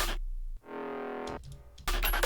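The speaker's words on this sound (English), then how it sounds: "This one works as a kinda lower octave synth." Lower-octave synth layer for a supersaw patch in FL Studio, heard alone as a single short sustained buzzy tone of about a second, framed by brief louder bursts.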